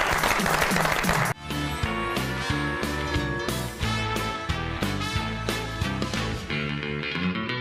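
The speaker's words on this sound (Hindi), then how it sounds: "बहुत सारी तालियां शेख साहब के लिए जी।" Brief applause from a studio audience on a talk show gives way to loud, tonal show music with rhythmic beats that carries on to the end.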